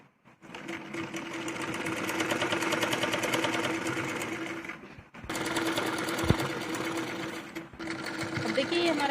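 A sewing machine stitches a jacket in two fast, steady runs of rapid mechanical chatter separated by a brief pause, close and fairly loud, with a quiet thump between bursts.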